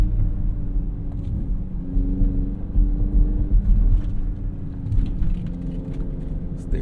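BMW X5 M running with a low, rumbling exhaust burble, a steady deep drone with gentle swells in loudness, heard from inside the car with no talking.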